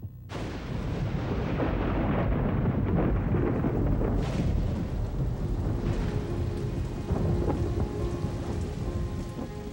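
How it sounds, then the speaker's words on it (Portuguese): Heavy monsoon rain pours steadily and loudly, with deep rolling thunder rumbling through the downpour from start to end. "Com ela vem a chuva, que torna este lugar tão verde e exuberante"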